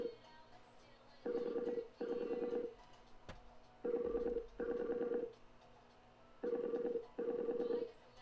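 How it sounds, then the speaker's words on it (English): In a Marvel video game, a phone rings in three paired bursts of buzzy tone separated by short gaps, faint and steady, with a brief thump partway through. "Slicem, answer your phone!"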